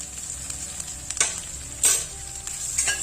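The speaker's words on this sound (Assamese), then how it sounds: "এতিয়া এইখিনি অকমান সময় ভাজি ল'ব লাগিব" Curry leaves frying with ginger, garlic and chili paste for a lentil dal: a close, crackling sizzle in hot oil, punctuated by a few louder spoon scrapes and splutters as it is stirred.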